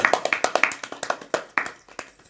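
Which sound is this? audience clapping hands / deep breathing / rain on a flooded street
audience clapping hands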